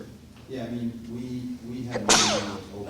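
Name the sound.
sneeze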